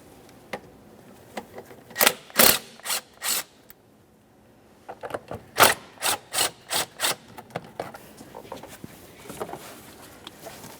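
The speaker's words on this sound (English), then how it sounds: "we're going to loosen each of these two 10mm headed clamps" A ratchet loosens 10mm clamps on the air inlet tube of a 2011-2020 Toyota Sienna 3.5L V6, giving close, rhythmic bursts of rasping clicks in two groups separated by a short pause.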